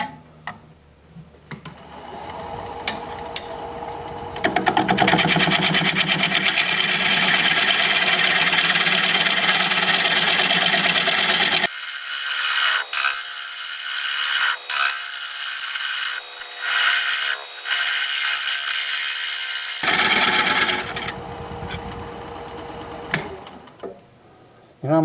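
Hazelnut bowl spinning on a wood lathe as a cutting tool scrapes and hollows it, a steady rasping, whirring drone that holds loud for most of the stretch, with a brighter hissing cut in the middle and quieter handling before and after.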